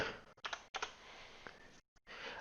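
Keystrokes on a computer keyboard come in short clustered bursts, several quick clicks with brief pauses and one full silent gap, close and moderately quiet.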